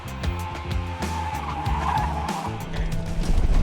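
A Crown Victoria police cruiser is driven hard around a race track, its V8 engine roaring and shifting through rising and falling revs with tire noise, loud and close from inside the car.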